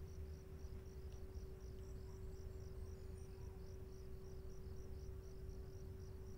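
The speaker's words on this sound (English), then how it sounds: "Please adjust your volume until you hear crickets on the screen" Faint, steady cricket chirping from the Five Nights at Freddy's 4 video game, a soft rhythmic pulsing over a low constant hum with no voices.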